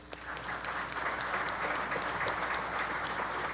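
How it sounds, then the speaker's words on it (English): Guests at a mayor's breakfast applaud, a continuous medium-sized round of clapping with some crisp individual claps close by, holding steady for the whole stretch. "sorry, I didn't mean to cut off your applause there"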